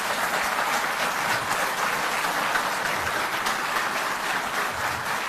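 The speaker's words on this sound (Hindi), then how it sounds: "तालियां बजती रहें।" Sustained applause from an audience at a Hindi-speaking public gathering, steady dense clapping throughout with no speech over it.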